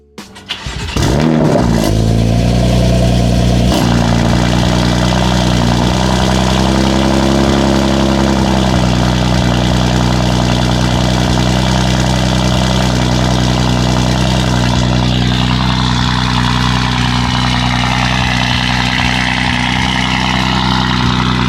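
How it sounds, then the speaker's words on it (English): BMW F80 M3 fitted with a new exhaust and tune, revving loudly and close up, then settling into a deep, steady idle that runs throughout. "Got the new exhaust on and a new tune. The pops are ridiculous."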